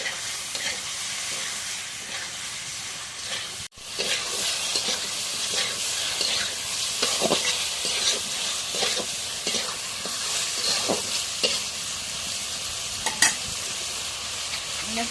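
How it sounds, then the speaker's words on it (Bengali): Fish pieces fry in a pan with spices while being stirred, a continuous close sizzle punctuated by repeated scraping and clinking of a spatula, with one brief break early on. "মাছগুলো এখন একটু নাড়া দিয়ে"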